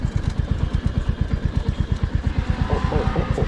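Royal Enfield Hunter 350 motorcycle climbing an off-road track on slow throttle, a close, steady single-cylinder thump pulsing rapidly and evenly throughout.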